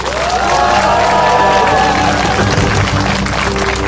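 A crowd at a Korean election campaign event for candidate Kim Bong-jae applauds loudly and steadily, a dense wash of clapping mixed with some cheering that holds for several seconds.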